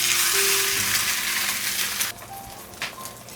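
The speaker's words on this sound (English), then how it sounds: "So we're going to put it into our very hot skillet, and we're going to let this cook for about 2 to 3 minutes." A thin layer of food cooking in a very hot skillet for keto breakfast smash tacos gives off a loud, close sizzle that drops suddenly about two seconds in, then continues softer with a few faint clinks.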